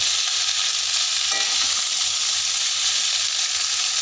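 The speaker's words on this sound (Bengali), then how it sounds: "পাস্তাটা ঢেলে দিয়েছি এখন আমরা এটাকে হালকা করে নাড়াবো" Overcooked boiled pasta being stirred in a hot pan, a steady close sizzle with soft scraping stirs running throughout, no voices.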